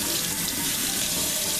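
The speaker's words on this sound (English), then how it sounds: "So just quickly do a quick rinse." Tap water runs steadily over a salt-crusted leg of lamb being rinsed in a kitchen sink, a continuous close hiss and splash with no talking.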